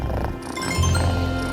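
A kitten purrs in a soft, continuous rumble, close and steady throughout the short moment, with no voices over it.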